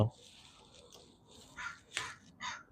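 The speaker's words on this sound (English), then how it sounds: "I got a little crow right here." A small crow calling outdoors gives a few short, raspy caws near the end, separated by brief pauses, moderately close over faint background noise.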